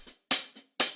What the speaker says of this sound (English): An acoustic head loop to add a bit of a human touch instead of those programmed head loops.